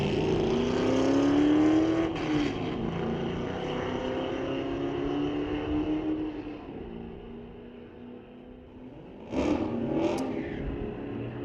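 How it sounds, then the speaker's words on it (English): A 1971 Camaro and a 1998 Corvette roar down a drag strip at a street-legal night drags event, one steady distant engine drone rising through gears, then fading, with a brief sharp burst near the end. "Camaro taking on Corvette next. Grudge match."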